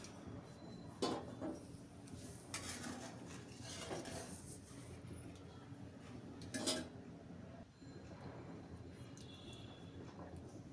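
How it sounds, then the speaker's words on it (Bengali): Fried rohu fish goes into boiling curry in a pan, with quiet clinks of utensils against the pan over a soft bubbling, and a few sharper metallic knocks along the way. "তরকারির ঝোল ফুটে গিয়েছে, এখন ভেজে রাখা মাছ দিয়ে দিলাম।"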